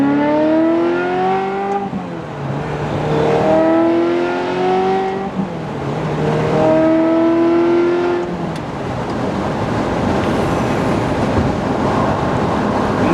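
A Ferrari F355 on a road test drive, its engine revving up through the gears in repeated rising sweeps, loud and close from inside the car with road noise underneath.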